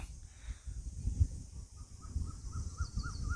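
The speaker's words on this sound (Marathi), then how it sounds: "बघा कोकिला ओरडते" An Asian koel calls at evening beside a rural Konkan road, its rising whistled notes repeating several times at moderate distance over a low rumble of passing traffic.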